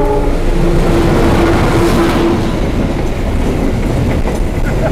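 A train rumbles steadily past close by, a dense, loud roar with rhythmic wheel clatter and a faint high squeal early on.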